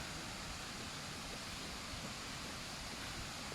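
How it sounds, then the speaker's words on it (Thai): Steady, loud rush of the waterfall at Mae Huai Khamin, heard beside a campsite at its fourth tier, a dense unbroken roar of falling water with no voices over it. "มาดูบรรยากาศที่น้ำตกแม่ห้วยขมิ้นนะ"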